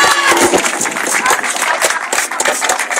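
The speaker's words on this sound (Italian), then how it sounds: "Un grosso applauso." An audience applauds at the best female cosplay award ceremony of a 2011 cosplay event, giving loud, dense clapping that continues throughout.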